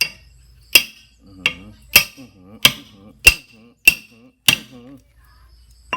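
An Irwin hammer strikes sharply and repeatedly, about seven ringing metallic blows at an even pace, each followed by a brief buzzing decay.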